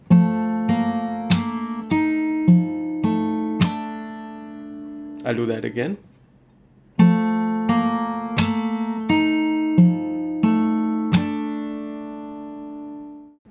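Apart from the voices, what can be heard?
fingerstyle guitar part of a song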